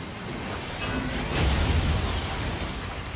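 A single gunshot with a burst-like explosion in the action game NieR: Automata, a loud sharp crack followed by a short whooshing rumble against steady in-game ambience.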